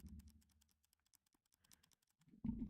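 Quiet, rapid computer mouse clicks in an uneven run, close and faint, ending with a short louder thump.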